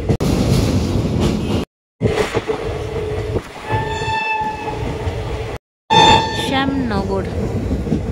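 Sealdah–Lalgola passenger train running through Ichapur station without stopping, picking up speed after slowing; steady close rumble of the coaches with loud horn blasts in two bursts, and a brief voice or two.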